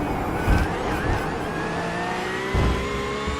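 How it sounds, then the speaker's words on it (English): A Porsche GT3 race car engine whines from inside the car at Road Atlanta, a loud sustained high-pitched drone with rising and falling pitch as it works into two right-hand turns, with low thumps from the track. "we hear the whining of that Porsche engine coming into our two right-hand turns"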